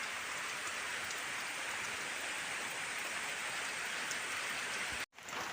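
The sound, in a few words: heavy rain falling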